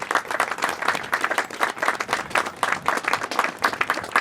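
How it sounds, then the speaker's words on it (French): Audience applause at a medal ceremony in Clichy-sous-Bois, part of a commemoration of the abolition of slavery: a steady, even round of hand clapping from a crowd, continuous and moderately loud throughout, with no talk over it. "Vous pouvez l'applaudir."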